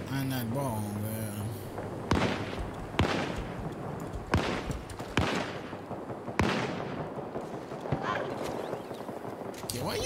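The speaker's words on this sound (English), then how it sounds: "why are you shooting at, bro?" Gunfire in the video game Battlefield 2042: sharp loud reports every second or so, some in quick bursts, over constant battlefield noise, with a voice speaking near the start.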